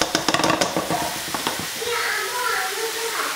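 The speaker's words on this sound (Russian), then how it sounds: "Перемешивая, выжариваем муку вместе с маслом." Flour being stirred and toasted in butter in a frying pan gives a few quick scraping stirs followed by a soft, steady sizzle close by.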